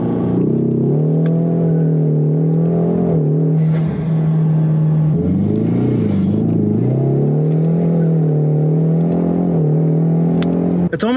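A car engine held at high revs while driving after a fuel treatment, a loud steady droning hum with slight pitch dips and rises as the throttle shifts, continuous and close throughout.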